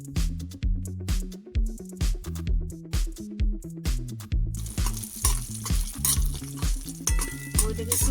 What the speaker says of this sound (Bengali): এই যে দেখুন বড়িটা আমি ভেজে নেব।